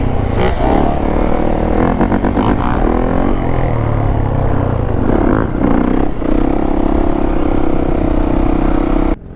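Several motorbikes riding past through smoke at a busy lot, engines loud and close, revving and accelerating with rising and falling pitch, plus rattling clatter, continuous until a sudden stop at the end.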